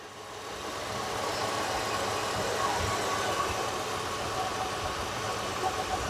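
A 1968 Ford LTD Brougham 2-door hardtop with a 390 V8 idles steadily and smoothly at close range, giving a constant low mechanical rumble with no voices over it.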